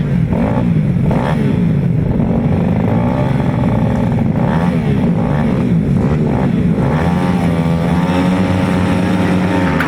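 Junior grasstrack motorcycles leave the start line together at a race meeting, their engines roaring and revving loudly and overlapping as they accelerate away, with a faint announcer voice beneath.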